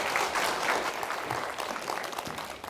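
An audience at a parenting talk concert in Gwangju applauds to welcome a professor, a brief, even burst of many hands clapping that slowly tapers off.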